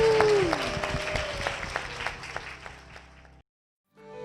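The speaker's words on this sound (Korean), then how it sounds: "주님께 영광의 박수를 드리겠습니다." A church congregation applauds in praise, a moderate spread of claps under a lingering sung or held tone, fading out and dropping to silence before a new sound begins.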